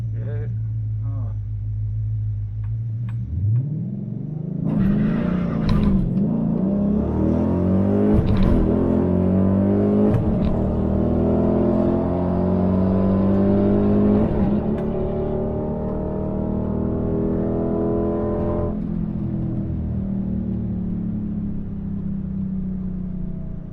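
A cammed 5.7 Dodge Challenger launches on a drag strip with wheels spinning, its loud, lumpy engine revving up through rising gears in a sustained roar before easing off near the end, a voice talking faintly over it.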